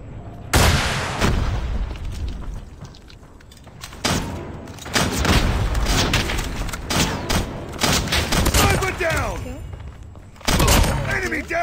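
Rifle fire in a first-person shooter match, with loud booming shots and crackling bursts arriving in several heavy clusters, separated by quieter stretches, with a sharp high whine running across much of it.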